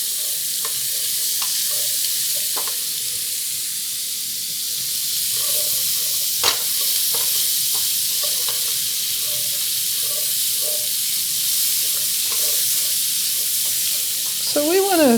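Onions and vegetables sauté in a pan after a chicken scampi sear, lifting browned bits from the bottom with a steady close hiss and sizzle, plus occasional scrapes and stirring clinks throughout.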